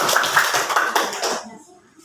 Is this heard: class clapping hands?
yes